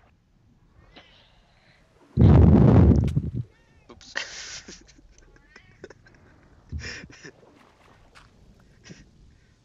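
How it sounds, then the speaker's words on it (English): A house cat meows loudly once up close, followed by fainter shorter meows, while people talk over a computer game in the background. "Do you hear my cat?"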